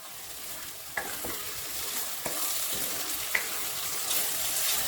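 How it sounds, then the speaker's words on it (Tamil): Palak keerai thokku, a spinach relish, being mixed in a pan as the oil separates: a continuous bright sizzle with a few soft spatula strokes and scrapes, close and steady. "இப்போ இதை நல்லா மிக்ஸ் பண்ணிக்குவோம்"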